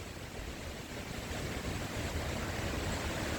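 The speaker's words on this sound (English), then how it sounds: "It's a lot of high wind." Strong high wind ahead of an approaching thunderstorm roars steadily and loudly throughout, a broad unbroken rush with constant buffeting on the microphone and no rain falling yet.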